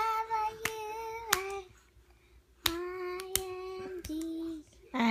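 A young child claps hands in a few sharp, close slaps spaced a second or so apart, between which a child's sung or spoken voice carries on with other soft sounds.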